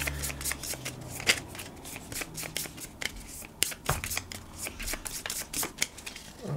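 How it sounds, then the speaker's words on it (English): Cards from the Warpgate board game being riffle-shuffled by hand, a rapid run of crisp papery flicks and snaps lasting several seconds, close and fairly quiet, with no talking. "I'll shuffle my deck up."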